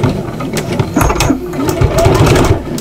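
Sewing machine back stitching through the layered strap and folded hem of an apron, a close mechanical stitching chatter that runs in short bursts with brief pauses between them.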